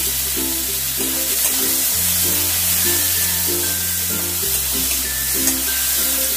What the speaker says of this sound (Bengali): পেঁয়াজটাকে খুব ভালো করে ভেজে নেব